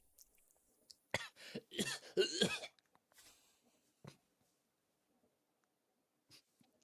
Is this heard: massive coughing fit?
yes